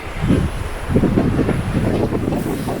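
Wind buffets the microphone outdoors at John O'Groats on the far northeast coast of the Scottish Highlands, a steady loud low rumble with gusty swells and no voices.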